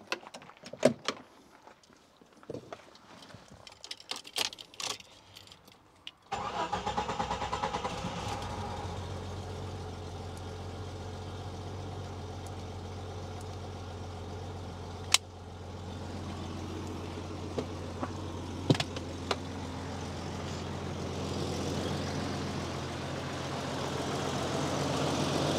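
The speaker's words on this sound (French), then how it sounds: "On va voir si le 4 litres il va vouloir démarrer." A Jeep's 4-litre engine: scattered clicks and knocks, then it catches and settles into a steady low idle, with a sharp knock partway through.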